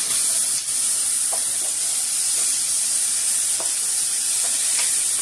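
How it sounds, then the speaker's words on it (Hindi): A pan of chickpea soup is stirred over the heat, giving a steady, loud sizzling hiss with occasional soft scrapes and taps of the spoon, close up and without voices. "तो थोड़ा सा हम अच्छी तरह से मिक्स करते हैं।"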